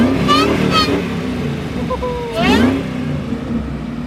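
Supercharged 5.4 V8 engine in a car revs in sharp bursts, loud and close, with a couple of quick throttle blips early and another strong rev midway, while someone talks over it.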